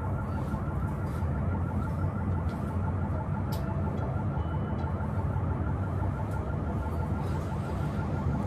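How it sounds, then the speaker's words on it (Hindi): An alarm rings steadily outside a house in the morning, a continuous, fairly loud wash of sound with a faint repeating pattern that carries on for the whole stretch without a break. "मैं आपको बता दूँ एक अलार्म सा बज रहा है"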